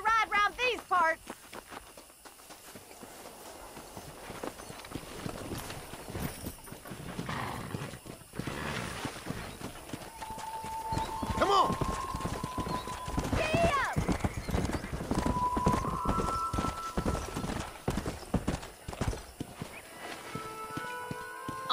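Horse hooves clip-clopping at a gallop in the Red Dead Redemption western game, a steady drumming rhythm with occasional whinnies, running under background chatter and music.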